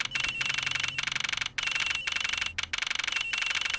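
A telephone in the Ace Attorney Investigations video game rings in repeated electronic trilling bursts separated by short gaps, loud and close, with no talking.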